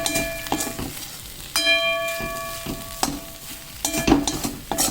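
Potato bondas sizzling in hot oil, a steady frying crackle with bursts of stirring and clinking of a metal ladle against the pan, close and without talk.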